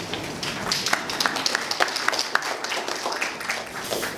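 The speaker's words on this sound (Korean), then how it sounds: "박수로 모십니다" An audience at a 2019 Gyeonggi International Boat Show forum session claps to welcome an official to the podium, with distinct, moderately quiet claps in a loose, uneven rhythm through the whole stretch.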